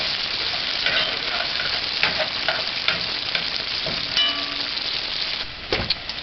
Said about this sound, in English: Just saute this for about 40 seconds.